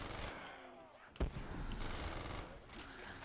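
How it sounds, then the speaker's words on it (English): An AUG rifle fires in a Call of Duty custom zombies map, a rapid automatic burst mixed with game effects and a sharp impact, under a player's talk. "The recoil on this AUG is awful."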